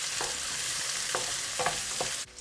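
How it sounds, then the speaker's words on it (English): One medium chopped onion fries in a pan for pulao, a steady sizzle broken by several spoon stirs and scrapes against the pan, with no talking. "Then I add in 1 chopped onion, medium size, and then I'm just going to quickly cook this for 5 to 6 minutes until it's lightly golden."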